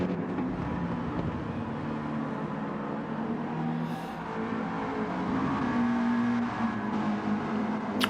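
GT race cars such as team Porsches, a Nissan and a Mercedes circulating at Suzuka in a sim racing game, a continuous droning engine hum with shifting tones and a slight swell of revving toward the end.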